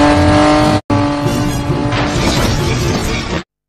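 Film car chase with cars ramming each other: loud, continuous engine roar and crashing, cut by a brief silent gap near the start, then a harsher, noisier burst of impact and engine noise before it ends abruptly.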